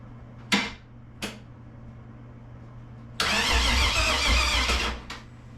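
A V8-swapped Chevy S10 cranks with two short sputtering attempts before the engine catches and roars to life, running loud and rough for a couple of seconds before dropping off, close by with no talking.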